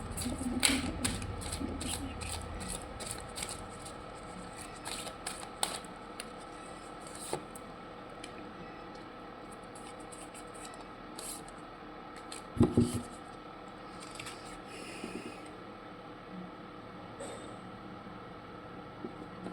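Divine oracle cards are shuffled and drawn, with a quick burst of rapid papery clicking at the start, then scattered softer flicks and taps, and a voice heard now and then.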